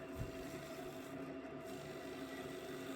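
A small wooden bowl being roughed out on a lathe with a dull cutting tool gives a steady, continuous whirring scrape with a faint rasp throughout. No talking.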